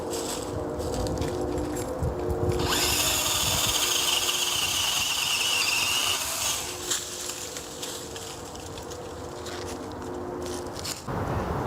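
A DeWalt brushless XR pole saw with an 8-inch bar and chain cuts a branch outdoors. It makes a steady motor whine with chain rasp that swells in the middle and carries on at lower strength to the end.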